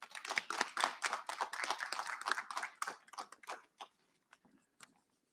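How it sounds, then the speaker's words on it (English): Applause for a speaker at a Black History Month convocation, a fairly quiet burst of clapping that thins out into a few scattered last claps and fades to near silence. "Please give him a round of applause."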